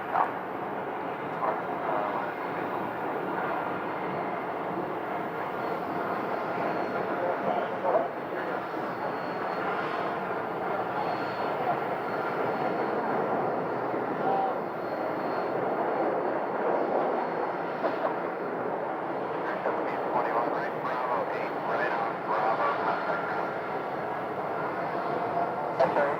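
A heavy Boeing 777 jet departing from runway 8 at an airport, a steady broad engine roar sustained throughout, loud and continuous.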